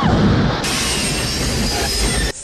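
A steam train from the film Back to the Future III rumbles past loud and close, a broadband roar with clanking wheel noise that surges, holds steady and cuts off abruptly near the end.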